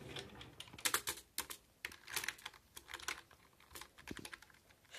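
Rapid, irregular keystrokes on a gaming computer keyboard, close and fairly quiet, with bursts of clicks and short pauses and no voices.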